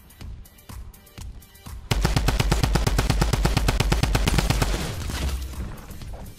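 Gunfire in the Fortnite Battle Royale video game: a few scattered shots, then a dense, rapid burst of automatic fire lasting about three seconds that tapers into lower rumbling.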